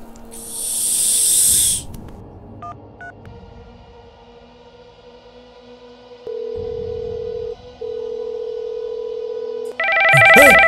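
A telephone rings with an incoming call: a brief burst of hiss and short tones, then a steady electronic tone that pauses once before resuming, ending in a louder ringing burst, close and clear.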